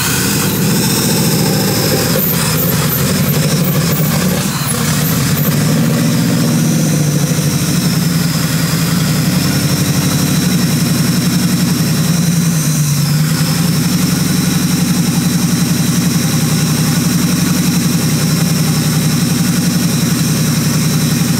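A twin-charged Ford Crown Victoria engine idles steadily and loud up close, with a deep rumbling low end, a few brief blips early on, and a continuous whine on top throughout.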